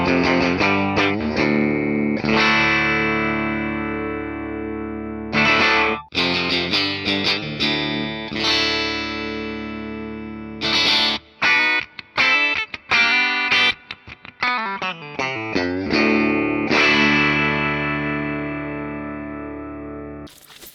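A 2024 Squier 50th Anniversary Hello Kitty Stratocaster electric guitar plays through heavy distortion and effects, with loud sustained chords and bursts of choppy, stuttering strums and abrupt stops.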